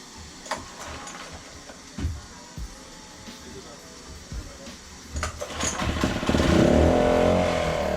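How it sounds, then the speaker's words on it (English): A small outboard motor, run in a bucket of water, sputters to life after a couple of short pulls, then runs and revs up, its rough buzzing growing louder toward the end. "Now after only a couple of pulls, it fires right up"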